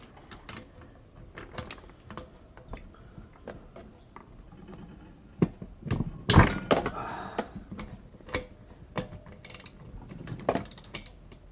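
Bolts being undone on the sump of a Rover lawn mower: a run of scattered metallic clicks and ratcheting taps, with a louder cluster of knocks and scraping in the middle, close and fairly quiet, no talk.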